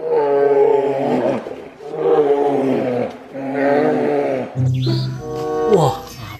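A bear roaring, three drawn-out loud roars in a row, followed by a shorter different call with a chirpy squeal at the end, close and clear.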